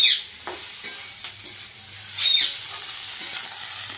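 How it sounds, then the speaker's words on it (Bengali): Sattu (gram flour) fries in a pan after onions, with a soft steady sizzle and occasional stirring scrapes and clicks, close and fairly quiet, no one speaking. "এবার আমি এটা ছাতুটা ভাজবো।"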